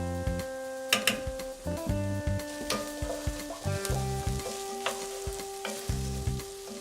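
Millet and lentils toasting in a pan as they are stirred: a steady close sizzle with rhythmic scraping strokes and ticking contact sounds throughout, no talking.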